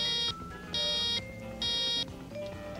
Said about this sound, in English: When the GasTech is switched on, this alarm will sound briefly to let you know it is operating properly.